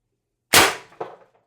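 A single sharp crack from an Umarex TR68 airgun firing an LLB Guardian 7.5g projectile, followed a split second later by a fainter thud of it striking plywood, both close and loud in otherwise silence.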